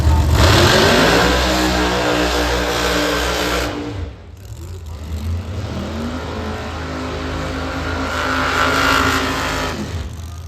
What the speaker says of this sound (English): The Argento and Tricky Ricky Smith, the only nitrous car on the property.